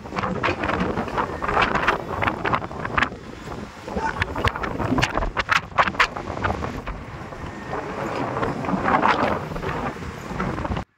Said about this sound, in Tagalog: napakalamig at napakalakas ng hangin